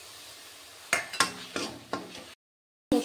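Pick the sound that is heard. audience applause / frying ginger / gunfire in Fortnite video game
frying ginger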